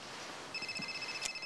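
A telephone rings briefly and fairly quietly in a room, a short electronic tone burst over low background hiss, with no talking.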